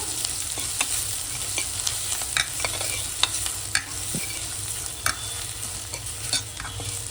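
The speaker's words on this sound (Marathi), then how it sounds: "1 चम्मच धना पावडर टाकायची आपण. पूर्ण हलवून घ्यायचं." Mutton masala with coriander powder stirred in a pan, a steady sizzle with scattered scrapes and clicks of the spoon against the metal, close and continuous with no voices.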